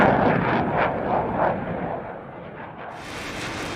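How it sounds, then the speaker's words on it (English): Missile explosion destroying an F/A-18 jet in the DCS flight combat simulator, a loud rumbling blast fading into a long low roar with a lingering airy hiss. "The missile hits one of the FA-18s, destroying the aircraft and killing its pilot."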